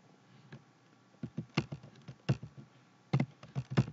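Fingers type a folder name on a computer keyboard: soft, close plastic key taps in an irregular run of a dozen or so strokes, ending with a few firmer presses.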